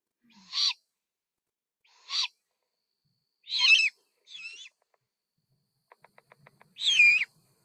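A burrowing owl gives several harsh, separate squawks with gaps between them, close and clear, and a quick run of sharp beak snaps comes just before the last squawk.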